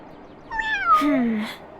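A cat in the farming game Wylde Flowers gives a single clear, close meow lasting about a second.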